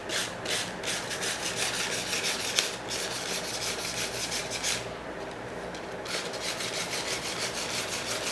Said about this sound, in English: be very smooth while rubbing sandpaper